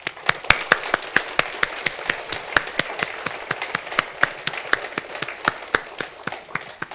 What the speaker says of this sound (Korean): 우리 하나님께 크게 박수를 한번 드리면 좋겠습니다